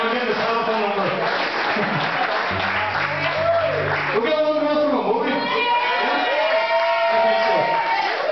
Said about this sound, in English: Keep the round of applause